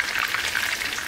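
Potatoes and chicken frying in a pan, a steady close crackling sizzle with no talk over it.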